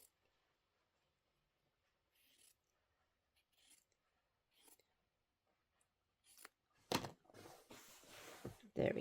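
A few sharp snipping cuts of scissors trimming quilt fabric near the end, preceded by faint handling rustles and quiet movement; no clear talking.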